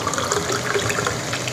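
Water poured from a tumbler into a pot of sautéed mushrooms for mushroom pulao, a steady close splashing and gurgling pour with no talk.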